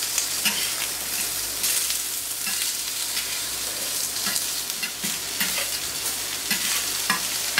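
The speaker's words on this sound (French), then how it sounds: "ça grille doucement, les oignons commencent à colorer." Aubergines and onions gently grill in oily fat in a pan, a close, steady sizzle with occasional stirring scrapes and small crackles throughout.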